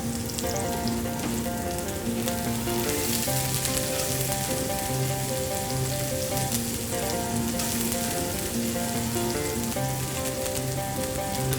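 Onions fry in a pan with garlic, giving a dense, steady sizzle with crackling spits. It sounds close and unbroken throughout, with a faint tonal background and no speech.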